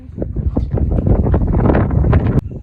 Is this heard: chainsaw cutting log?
no